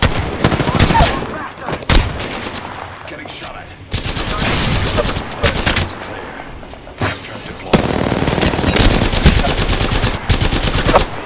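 Loud, close bursts of automatic gunfire in Apex Legends come in rapid volleys separated by brief pauses, with game sound effects between them.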